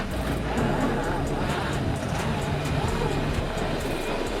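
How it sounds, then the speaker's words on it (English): A 2-liter turbo Chevrolet Equinox engine revs hard and steadily while its suspended wheels spin on a test obstacle, a continuous loud drone with broadband roar and no clear breaks. "The engine is running, the hanging wheels are slipping, but the Chevrolet is standing still."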